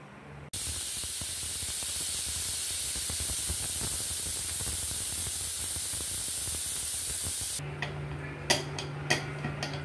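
A pressure cooker on a medium flame releases a loud, steady jet of hissing steam for about seven seconds, then cuts off abruptly, followed by a few faint ticks and a low hum.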